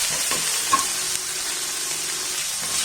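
Onions and ginger garlic paste fry steadily in a pan as tomatoes go in for a Malayalam-style macaroni, giving an even, close sizzling hiss with a faint clatter or two and no talk.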